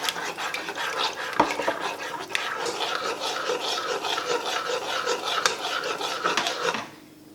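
Continuous scraping and stirring of about a glass of water in a metal pot, a spoon rubbing against metal with a few sharper clinks, steady and close, ending abruptly.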